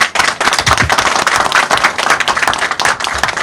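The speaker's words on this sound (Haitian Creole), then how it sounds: "donc gros applaudissements" Dense, loud applause from a crowded audience, many hands clapping together without a break for the whole stretch, close and full.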